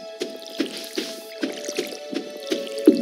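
In the farming video game Stardew Valley, crops are watered with a repeated soft splash-squish. Evenly spaced watering sounds come roughly every half second over a faint tonal game hum, with no talking.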